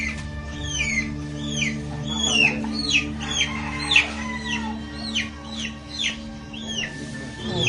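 A chicken, a gamefowl being examined after a gunshot test, clucks repeatedly in short rising calls close by, over a steady low hum.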